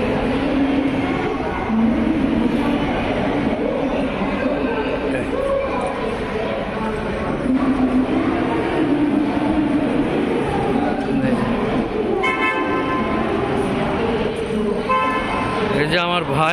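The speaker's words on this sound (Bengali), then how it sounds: "Hyderabad railway station." Busy platform ambience at Hyderabad railway station: a continuous rumble of trains with horn toots and metallic squeals, under nearby voices and crowd chatter throughout.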